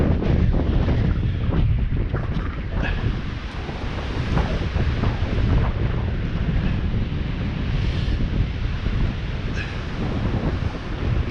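Steady, roaring wind buffets the microphone at a high forest overlook in Weiser State Forest, Port Clinton Tract, a continuous low rumble with gusty surges and no voices.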